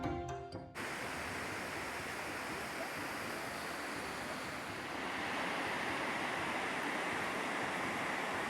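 The Capilano River flows through a rainforest canyon in British Columbia under soft drizzle. Its continuous broadband rush of water is steady and fairly loud, swelling slightly near the end, after a brief faint sound at the start.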